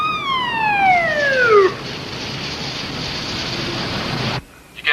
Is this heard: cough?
no